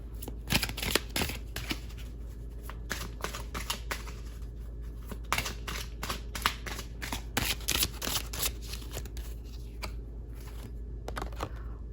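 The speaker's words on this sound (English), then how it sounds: "Let's pull a few more cards." Tarot cards shuffle close by in quiet, with repeated crisp riffling bursts and soft card slaps spread across the stretch and no speech.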